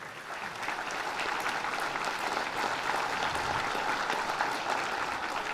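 Steady, dense audience applause fills a hall at a police merit awards ceremony, a continuous wash of many hands clapping at even loudness throughout with no talk over it.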